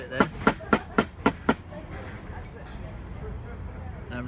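Hammer knocking down the pointed metal edge of a handmade pendant, six sharp evenly spaced blows close up, then quiet.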